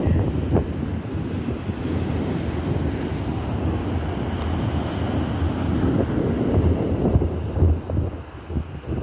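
Strong wind at a beach in Aringay, La Union roars steadily across the microphone for the whole stretch, with a constant low rumble and gusty buffeting, no voices present.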